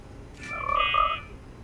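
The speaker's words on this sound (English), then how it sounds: "it's the same sound the frog makes" A brief electronic croak resembling a frog's call plays back as an audio replay in the Total Recall 2070 video game, a single warbling tonal burst lasting under a second against a quiet hiss.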